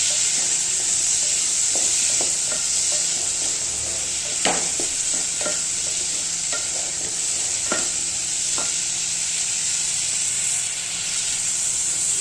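Peas and potatoes roast in a hot pan with a loud, continuous sizzle and hiss, broken by several short scraping knocks from stirring.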